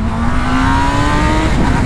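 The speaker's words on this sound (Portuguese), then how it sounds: "eu tô acelerando a moto conhecendo ela, velho" A 2020 Honda CB1000 motorcycle accelerates hard, its engine a loud, close, steady roar with a tone that climbs slowly as the revs rise, and no talk.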